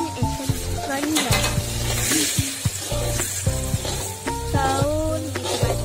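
A spoon scrapes and stirs a kek batik mixture in a pan in rhythmic, repeated strokes close by, with light clatter and a soft sizzle, while a voice talks over it.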